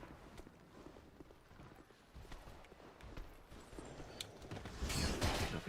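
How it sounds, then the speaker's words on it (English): Horse hooves clip-clopping in the video game Dark Souls 2, a steady run of fairly faint hoof strikes that swell louder toward the end. "Hear a horse."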